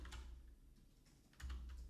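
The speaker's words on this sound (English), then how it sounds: "And I'll keep typing." Typing on a computer keyboard while working in a code editor: a quiet, steady patter of soft key clicks with a brief louder burst near the end, no voices.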